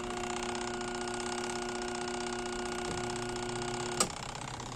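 A Panasonic twin tub washing machine with a blown capacitor runs its wash motor in a steady humming whir with tonal drone, which changes pitch near the end as it stops to reverse, marked by a sharp click.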